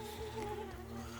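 Steady buzzing drone of sleeping bees near a honey jar in the survival game Grounded, continuous and moderately quiet with a wavering tonal hum throughout.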